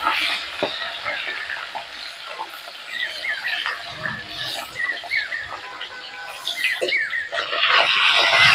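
Small mola (mourala) fish fry in hot oil in a village kitchen, giving a busy crackling sizzle with scattered pops and light clatter that swells louder near the end.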